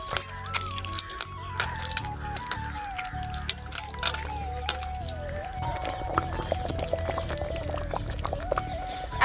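Water poured from a cooking vessel into a metal plate while making homemade tamarind chinchvani, a steady splashing pour with clinks and kitchen clatter running throughout.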